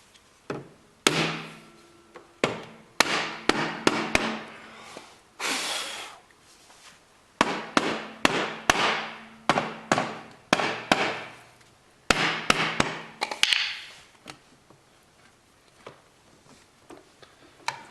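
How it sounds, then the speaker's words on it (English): Engine cover being tapped loose on a Yamaha Zuma 50 scooter: a long series of sharp, close knocks in uneven bursts with short pauses between groups, no speech. "hopefully tap the cover off and take a look inside"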